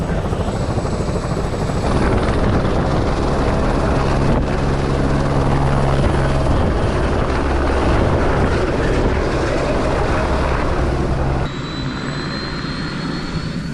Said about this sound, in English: that's our copter now spinning up